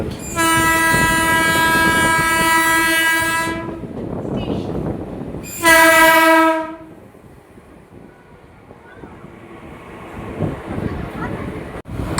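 A Krishnanagar City local train passes near Sodepur station on the Sealdah–Barrackpore line, its loud horn blaring twice in long blasts over rumbling wheels and carriage noise, which fade out afterward.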